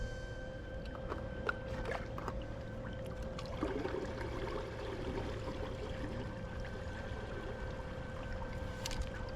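An iSUP paddleboard driven by a Hiqmar e-FIN electric motor fin cruises on water, with a steady, faint motor whine over continuous low water wash and lapping.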